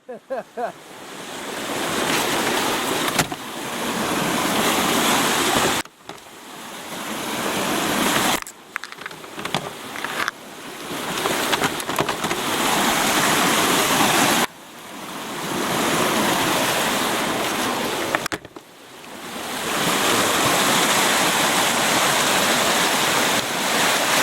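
Floodwater roars loudly down a creek after a dam collapse during Hurricane Helene, a dense, continuous rushing wash broken by a few short cuts, with no voices heard.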